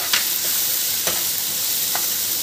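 Pav bhaji masala with turmeric, salt and kasuri methi stirred through in a hot pan, a steady close sizzle with a few scraping strokes of the spoon, no talking.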